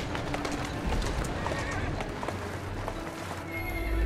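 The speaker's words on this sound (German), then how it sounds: "wenn das Pferd so durchgeht" A horse bolts in Assassin's Creed Syndicate, hooves clattering in a rapid clip-clop while it lets out whinnying neighs, close and loud, with a voice briefly present underneath.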